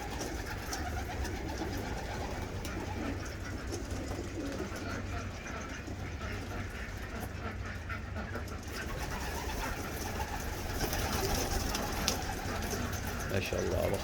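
Pigeons coo steadily in a loft or coop alongside ducks and chickens, a continuous murmur of soft calls with a voice speaking over them.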